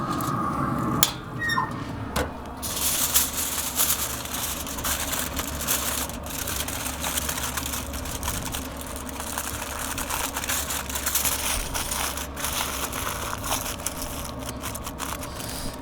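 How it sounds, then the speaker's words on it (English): Skirt steaks are wrapped in foil beside a pellet grill, giving a continuous close crinkling and crackling over a low steady engine-like hum, with no speech. "Take our skirt steaks out. We're gonna wrap them in some foil."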